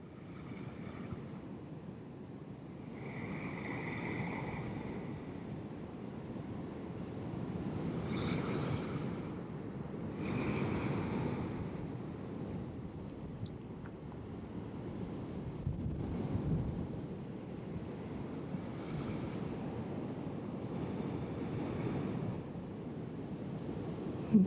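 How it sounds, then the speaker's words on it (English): Ocean waves surge and wash steadily behind a quiet outdoor setting, a continuous broad rumble with gentle swells rising and falling, mixed with some wind across the microphone and no talking. "You can probably hear the waves behind me."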